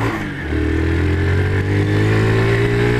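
A Honda CG motorcycle engine idles close by after a push start, a steady low thrum that picks up slightly after a brief dip at the start and then runs evenly.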